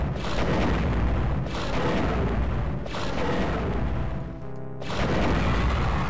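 A concussion rifle fires in the video game Star Wars: Dark Forces, several loud, rumbling booming blasts in a row, each with a long roar, one trailing into a brief ringing tone before the next hit.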